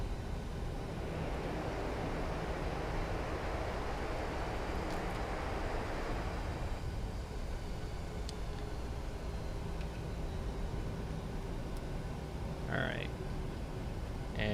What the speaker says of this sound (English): It's a reverser going.